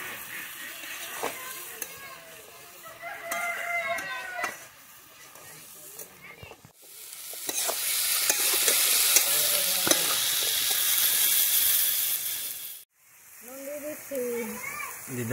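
Chunks of papaya tipped into a frying pan and stirred for a rural chicken and papaya curry, giving a steady loud sizzle with scraping stir strokes, a brief pause, then renewed sizzling; voices talk over parts of it.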